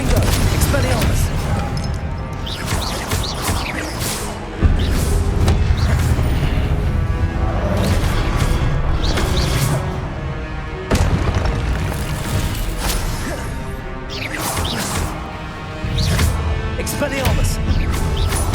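Confringo spell blasts go off repeatedly during a boss fight in the game Hogwarts Legacy, heavy booming bursts recurring every few seconds beneath a voice shouting spell names.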